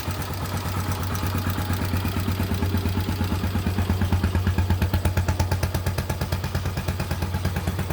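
A cold Honda XL500 single-cylinder motorcycle engine idles with the choke on, giving a close, regular thumping beat that grows slightly firmer and louder partway through before settling.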